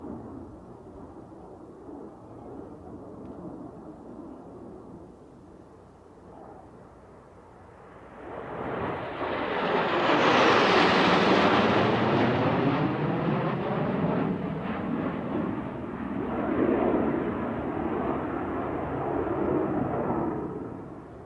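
Thunderbirds jets in Diamond formation roar in from far off at an air show, swelling over several seconds into a loud, sweeping jet rumble with a rising and falling whoosh as they roll overhead, then a sustained roar that stays strong.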